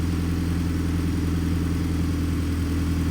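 A rebuilt Honda Civic SiR engine idles steadily and quietly during break-in, a smooth low-pitched hum running throughout, close by with no talk.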